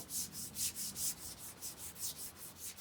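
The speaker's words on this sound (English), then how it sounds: "Now we're going to sand the edge off" Sandpaper rubs back and forth across the edge of wood for a cigar box guitar build, a rhythmic series of about a dozen close, hissing strokes with no talking.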